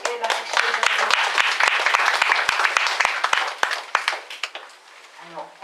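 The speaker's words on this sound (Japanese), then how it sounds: "もしよろしければ拍手をいただきます" Applause from the audience at a residents' meeting on relocating Isohara district homes to higher ground in Kitaibaraki, Ibaraki, a dense, loud burst of many hands clapping that swells, then thins out and fades, with a voice briefly at the end.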